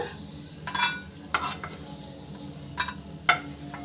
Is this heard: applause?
no